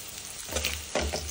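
Mustard seeds, chopped garlic, cumin and curry leaves sizzle in hot oil for a brief moment, with a soft crackling hiss and a couple of louder spitting bursts.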